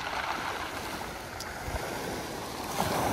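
Light waves wash on the Black Sea shore at Sochi on a mild January day, a steady soft surf rumble with wind, no voices.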